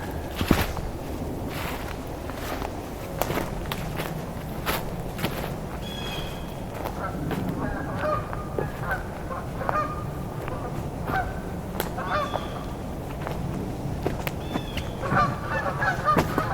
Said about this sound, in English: We've got some Canada geese here.